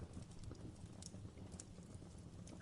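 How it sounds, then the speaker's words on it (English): Slow, heavy footsteps thud across the ceiling of an apartment from the floor above, muffled and steady within a dense wash of background noise. "Slow footsteps moving across the ceiling."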